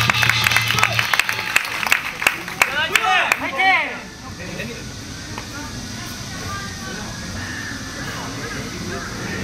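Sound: audience applause at a taekkyeon battle

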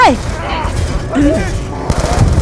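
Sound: gunfire in Call of Duty Black Ops 2 video game

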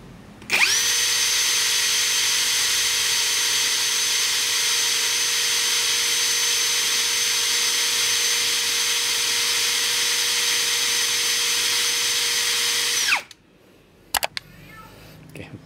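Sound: Mark-X brushless drill driver running at gear 2 for RPM test

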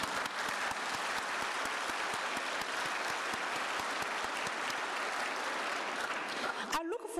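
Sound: applause

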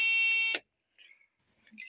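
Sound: lights-on warning buzzer in 1984 Isuzu KB2000

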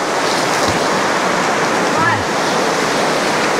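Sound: small waterfall in Khashupse canyon

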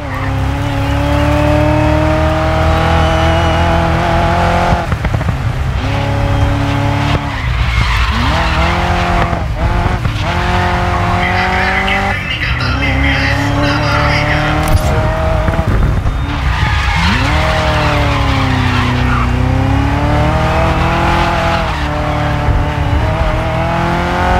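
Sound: Ford GT40 race car engine and skidding in video game Grid Legends

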